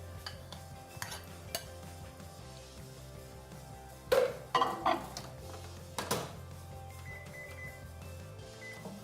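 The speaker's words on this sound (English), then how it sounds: "So it's just starting to melt now, so I'll give that a little stir, just help it along." Melting chocolate is stirred in a bowl, soft scraping under a faint background hum, with a few sharp clinks of a utensil against the bowl in the middle.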